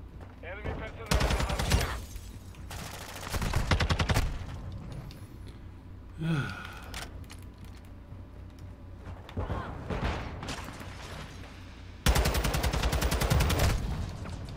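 Automatic gunfire from a Call of Duty hardpoint match comes in several loud sustained bursts, separated by quieter stretches of game sound with faint chatter in the background.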